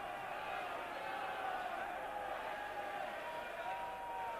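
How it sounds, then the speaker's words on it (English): Dense, steady roar of a large rugby crowd at Twickenham during a 1988 England v Wales Five Nations match, a continuous din holding at an even level with no clear breaks throughout. "That the instructions are difficult to hear by the din of this crowd."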